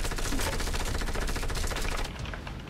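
Dense, rapid automatic gunfire in the Fortnite video game, loud and continuous bursts that ease off slightly near the end, with no talk over it.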